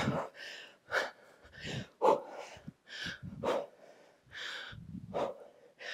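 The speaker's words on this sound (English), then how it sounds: "Maybe you hear my breathing." Heavy, rhythmic breathing up close during a dumbbell leg workout, sharp inhales and forceful exhales repeating every second or so, with a few short vocal bursts mixed in.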